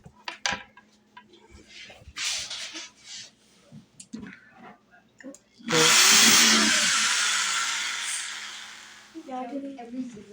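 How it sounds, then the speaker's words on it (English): A power drill whirs loudly for a few seconds after scattered talk and handling noises, then winds down as voices return. "Ivy and Sierra are drilling holes."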